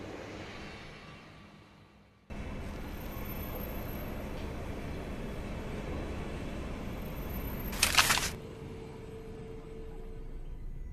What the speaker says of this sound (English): The train. Just in time.